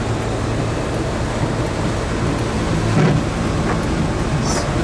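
Pea-size hail pelts down during a storm, making a dense, steady roar that fills the whole stretch, heard from inside a stopped vehicle with no talking.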